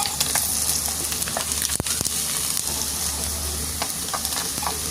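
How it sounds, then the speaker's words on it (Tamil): Anchovies frying in hot oil, crackling close and steady with small pops and an occasional stir or utensil scrape, no voices. "இப்போ நெத்தலி மீன் பொரிஞ்சிட்டு எடுப்போம்."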